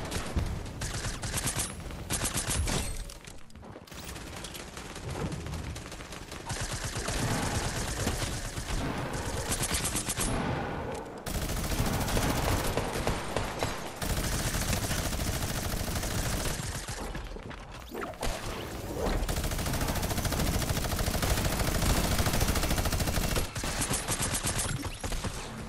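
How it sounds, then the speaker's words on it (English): Rapid automatic gunfire from a Fortnite Battle Royale match, in long dense bursts with short pauses, loud and continuous for most of the stretch, with no voices over it. "Most of the shots didn't even bloody land anyway."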